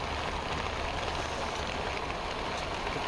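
Heavy monsoon rain in Uttarakhand pours down in a steady, dense broadband hiss, loud and unbroken throughout with no voices.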